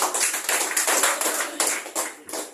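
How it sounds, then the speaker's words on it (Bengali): An audience at a talk gives a burst of loud, sustained hand clapping, dense rhythmic claps rising and dipping in close, irregular waves throughout. "জোরে একটা হাত তালি দিন।"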